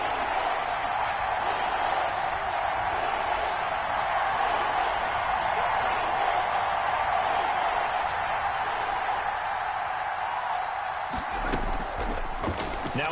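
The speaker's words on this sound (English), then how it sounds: "The crowd getting into it as we come up on a big third down." Stadium crowd in a PS4 football video game roars steadily ahead of a big third-down play, a dense, unbroken wall of cheering that holds loud throughout and thins slightly near the end.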